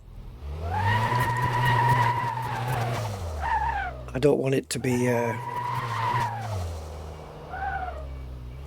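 Tires skid and squeal under hard braking on a test track in Car Mechanic Simulator 2026, a sustained tonal screech that drops out briefly mid-run, with someone talking over it.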